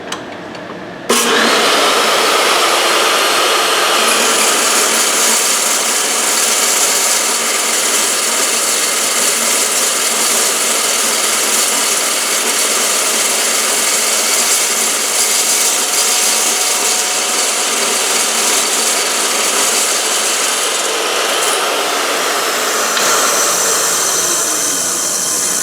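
A power tool cuts through stock for dice, running loud and close in one sustained whine for over twenty seconds after a brief start, then easing slightly near the end, with no speech.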